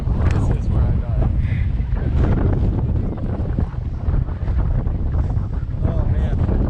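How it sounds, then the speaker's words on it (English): Strong wind at Arches National Park roars and buffets the microphone continuously, loud and gusty throughout with no break. "That was extremely windy. Very windy."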